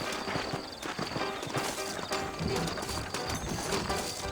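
In the video game Red Dead Redemption, horse hooves clip-clop in a steady walking rhythm alongside creaking tack and mechanical rattles, busy and close.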